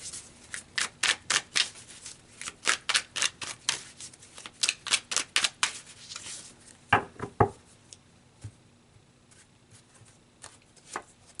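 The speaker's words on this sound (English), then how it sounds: "So let's pull some more cards" Tarot cards being shuffled and pulled, a rapid run of crisp papery riffles and snaps, then a few louder slaps and scattered soft card flicks near the mic.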